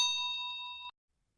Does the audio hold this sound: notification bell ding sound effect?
yes